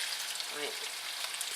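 Onions and garlic frying in a pan for a chicken fried rice stir-fry, a steady close sizzle with a brief spoken word over it.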